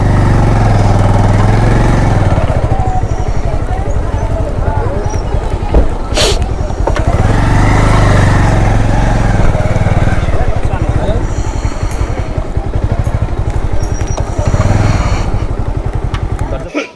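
A vehicle engine runs steadily while being parked near a crowded temple site in Vrindavan, a close, loud low rumble throughout with a brief sharp knock partway and crowd noise mixed in.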